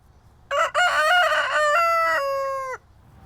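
An Augsburger rooster gives a single loud, close crow of about two seconds, alone against a quiet background.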